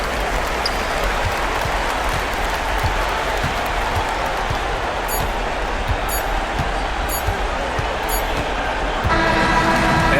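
A home crowd cheers steadily in a PS5 basketball video game, a dense, loud roar under repeated ball bounces, with faint sneaker squeaks and a commentator talking.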